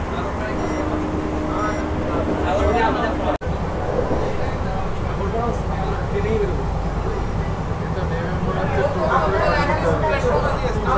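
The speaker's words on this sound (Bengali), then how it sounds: "আমাদের ট্রেন ছেড়ে দিয়েছে দমদম থেকে" An AC local train on the Sealdah–Ranaghat line rumbles steadily along the tracks near Sodepur at about 100 km/h with a constant roar, while people chatter faintly in the background and a brief click cuts through.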